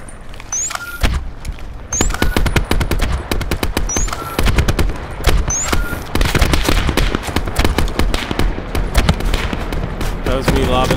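Rapid automatic gunfire from the Call of Duty Black Ops 4 Blackout battle royale, loud dense bursts of shots continuing throughout with brief pauses and some game interface chimes, voices faintly underneath.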